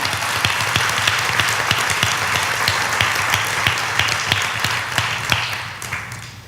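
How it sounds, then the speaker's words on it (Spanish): Loud, steady applause from a church congregation during a bilingual Spanish-English sermon, a dense wash of clapping with some sharper individual claps standing out, holding for several seconds and easing slightly at the end. "Dale un fuerte aplauso al Señor por eso."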